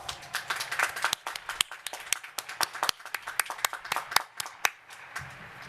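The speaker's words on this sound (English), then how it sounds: "Would you please join me in giving them all a big round of applause?" Audience at a university graduation clapping for graduates' supporters, a sparse, uneven round of close hand claps that thins out toward the end.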